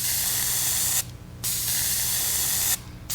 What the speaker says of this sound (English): So I'm just going to use real light coats, light pressure, keep the airbrush further away